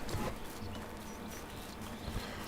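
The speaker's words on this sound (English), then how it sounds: "Our poor little donkey over there." A donkey in the Medieval Dynasty video game clops its hooves in a soft, uneven rhythm at moderate distance, a few footfalls over a faint background with no talking.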